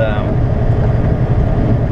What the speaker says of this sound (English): sorry for the noise, it's very windy today